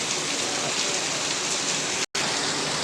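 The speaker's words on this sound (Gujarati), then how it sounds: "આજ 1 તારીખનો વરસાદ" Steady heavy rain pours down in the village of Shivrajgadh, a dense, even hiss that fills the whole stretch with no other sound, cut only by a brief silent dropout near the end.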